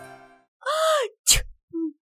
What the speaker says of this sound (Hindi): उसे एक के बाद एक छींक आना शुरू हो जाता है